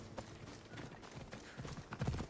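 Faint, even clip-clop of horse hooves at a walking pace in the video game Assassin's Creed Odyssey, soft and somewhat distant.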